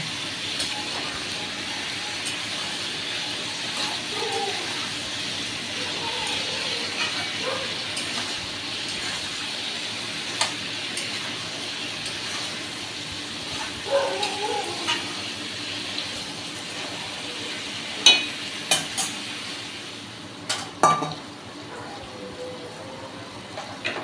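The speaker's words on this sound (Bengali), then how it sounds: "আর দেবো একটু হলুদ গুঁড়ো, দিয়ে আলু পেঁপেটা একটু ভাজা ভাজা করে নেব" Potato and papaya fry with salt and turmeric in a pan, making a soft, steady sizzle. Faint clinks and spatula scrapes come and go, growing more frequent toward the end.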